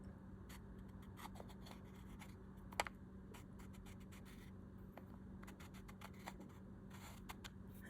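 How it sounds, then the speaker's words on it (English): A Johnson Force 315 fishing reel turned backwards gives off a scattered run of faint, dry clicks and scratchy ticks close up, with one slightly sharper click partway through and no voices. "we're going to rotate it backwards until we hear it click"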